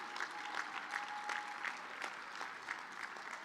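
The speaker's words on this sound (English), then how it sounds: "One more time, a round of applause for the Chairman's Award winner." A conference audience gives a short round of applause to a Chairman's Award winner at a coalition academy graduation; the clapping is faint and distant, with separate claps and a thin tone running under it.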